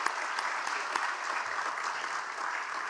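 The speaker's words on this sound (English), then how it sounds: "So can we just give them a round of applause, please?" An audience at a girls' college sports awards ceremony applauds its coaches and managers: even, sustained clapping from a large crowd in a hall, with a few sharper individual claps near the start.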